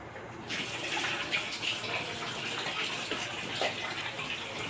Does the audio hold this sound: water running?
yes